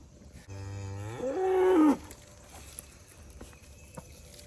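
A calf on a farm gives a single loud, drawn-out moo lasting about a second and a half, rising and straining at the end, then quiet barn ambience with faint scattered knocks.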